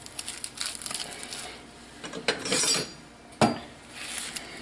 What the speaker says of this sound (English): That's a chiffonade of lettuce.